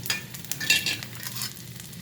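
Mustard seeds and urad dal tempering in sesame oil, a close soft sizzle with quick crackling pops and light stirring scrapes, brief and alone.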